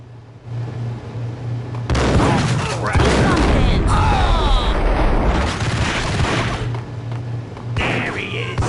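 Gunfire in the Max Payne video game, with several loud booming shots and heavy impacts across the clip, layered with game music and spoken dialogue.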